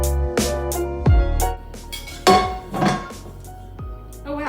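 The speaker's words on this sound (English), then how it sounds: "we're just going to take a non-sharp knife, go around the outside of the pan, and then you can sort of lift it up" A blunt knife run around the inside of a metal cake pan and the cake lifted out: close metallic clinks, scrapes and ringing knocks in irregular bursts, with no talk.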